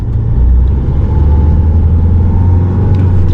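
A Mahindra XUV-500 W6 with a manual transmission accelerates in first gear, its engine giving a loud, steady low rumble and whir heard from close inside the cabin, with no one talking.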